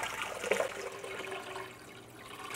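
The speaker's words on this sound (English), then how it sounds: "Let's get some water in there." Water pours into a glass vase for a floral arrangement, a soft steady trickle and gurgle nearby that eases off toward the end.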